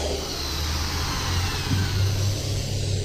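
A variable-speed polisher runs flat out on painted, faded, oxidized motorcycle plastic, giving a steady, close, unbroken motor whir with a low hum and no talking.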